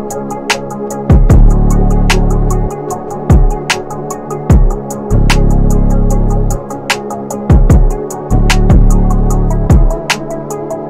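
Programmed beat combining layered kick, snare and a basic two-step hi-hat pattern with varied velocity so it skips slightly; dense ticking hats over thumping kicks and snare hits, loud and with no talking.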